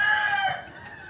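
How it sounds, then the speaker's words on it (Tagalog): A rooster crows once nearby, a single loud, drawn-out call that fades away in about a second. "May manok din po yan"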